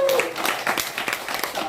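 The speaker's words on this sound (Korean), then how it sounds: "박수." An audience applauds during a lecture in a laughter-coaching course, with a dense patter of clapping under people talking over it.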